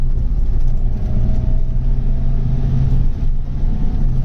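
A Mk2 Astra GTE cruising in sixth gear at about 30 mph, a steady low engine drone and road rumble filling the cabin throughout, with no speech.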